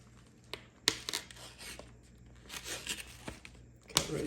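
Plastic packaging being torn and cut off a POOLWHALE professional pool skimmer net, with close crinkling, tearing rips and a few sharp snips in irregular bursts.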